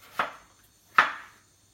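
Two crisp knife chops through peeled potato on a cutting board, cutting it into small pieces, a distinct close strike followed by a second one about a second later, with no voices.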